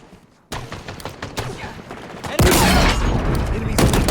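Gunfire in a Halo Infinite multiplayer match, starting quiet, then breaking into loud, dense bursts of shots that grow heavier and keep going, close and intense.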